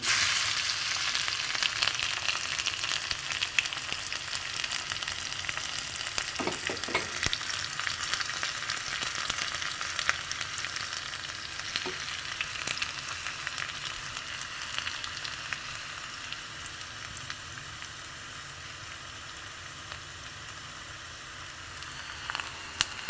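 Steady crackling sizzle of crushed unpeeled garlic frying in hot oil for a tempering, continuous and close, with a few brief sharper spatters, no voices.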